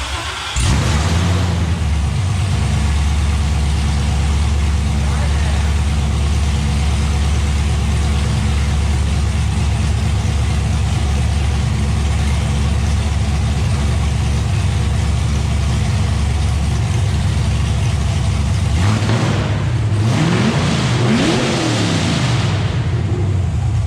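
An LS V8 with open headers cranks and fires, then runs loud and raw with a deep burbling idle, with a couple of sharp revs near the end, close up in a garage.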